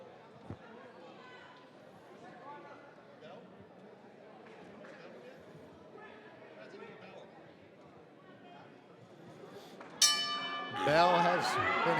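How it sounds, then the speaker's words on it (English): A boxing bell rings sharply at the start of a professional fight, cutting in loud near the end after a stretch of steady crowd chatter and commentary. "Bell has been hit, and we go."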